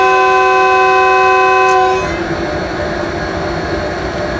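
A train's whistle blows steadily as a loud, sustained multi-tone horn at Chaklala station, cutting off after about two seconds and leaving the rumble of the train beginning to move.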